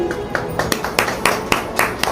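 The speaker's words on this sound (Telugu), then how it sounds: "అందరూ చప్పట్లు కొట్టండి." Rhythmic clapping by children in a school classroom: a steady beat of about four sharp claps per second, close and fairly loud, with no pause.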